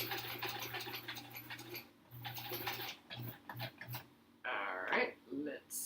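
A sewing machine stitches a quilt block with a steady mechanical hum in two long runs, then a few short bursts, before a person speaks close by.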